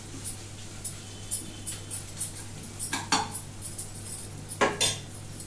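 Grated mango being stirred in a pan with a metal utensil. Light scraping and clinking taps scatter irregularly over a steady low hum, with a few sharper knocks near the end, no talking.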